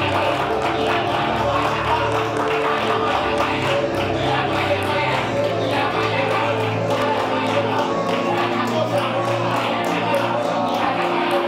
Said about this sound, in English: Clap your hands and begin a prayer.